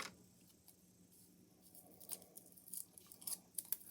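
Scissors snip through a piece of mounting tape during shadow box crafting, a few short, crisp cuts growing slightly louder toward the end, close up and quiet with no talking.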